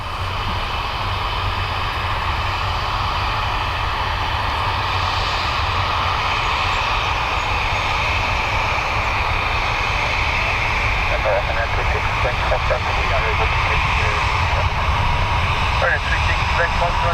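Aer Lingus airliner taking off at Dublin Airport, a loud continuous jet engine roar sustained throughout, with a steady broadband rumble and no break.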